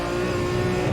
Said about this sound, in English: You can hear the car struggling for traction